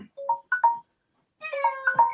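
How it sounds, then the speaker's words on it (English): A pet cat named Lucy meows indoors in a home kitchen, giving two short, close, tonal calls, a pause, then a longer run of several meows with no talk over them. "That's Lucy meowing."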